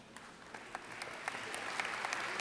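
Steady applause from a crowd at a University of South Alabama 50th anniversary celebration, dense clapping with a few sharper claps standing out, building slightly and continuing throughout.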